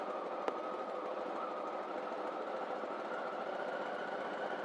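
A Honda Valkyrie motorcycle engine runs at a steady idle after its carburetors have been synced, a faint, even hum with a light knocking texture and one sharp tick near the start.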